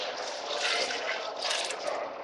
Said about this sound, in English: So now we'll add the rice starch to it.